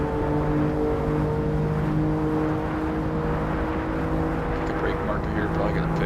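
A BMW M4 race car in Assetto Corsa accelerates up through the gears on a warm-up lap, its engine drone steady and continuous, with gear changes blending into the hum, while someone talks over it throughout.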